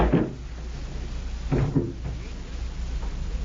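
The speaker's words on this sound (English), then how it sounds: "There's that prop man's door, Greg." A prop door in a 1957 old time radio crime drama creaks and thumps open, a couple of low wooden knocks heard alone over a hissy, muffled vintage broadcast background.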